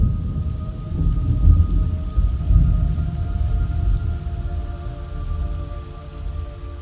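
Steady heavy rain with deep rolling thunder rumbling throughout in the video game Metal Gear Solid Delta: Snake Eater, loud and close, with no voices.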